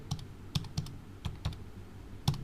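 Keys on a computer keyboard tapped while entering text in PowerPoint, a handful of quick, crisp clicks in short irregular bursts, close and fairly quiet with no voices.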